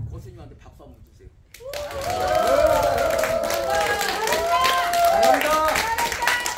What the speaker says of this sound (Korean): 고수님한테 박수 한번 주세요.